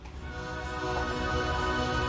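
Synthpop chorus with layered strings for the final part of a pop song, a dense sustained harmonic bed with steady loudness and low bass pulses throughout, no voices.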